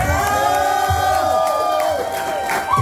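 A crowd at a metal concert roars and cheers loudly and steadily throughout, a dense wall of voices with whoops rising over sustained musical tones.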